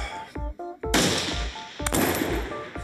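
Sharp gunshots at a shooting competition ring out in irregular bursts, several loud cracks with a few quicker double reports, close and dominant with no talk over them.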